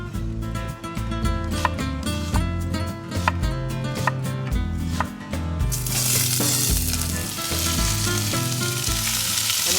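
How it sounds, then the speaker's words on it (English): Sliced medium white onion sautéing in a pan, a loud constant sizzle with rhythmic clacking stirs for the first half, then a broader hiss as the frying builds, no voices. "you start making this crema by slicing up a white onion, a medium-sized white onion, and then sautéing it."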